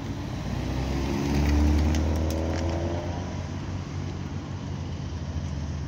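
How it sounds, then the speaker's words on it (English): A BMW M4 passes at a car meet outside a pub, its engine note rising to a loud, near swell and then easing into a steady rumble, with general crowd and traffic noise behind it. "Here comes the BMW M4. Sounding quite nice."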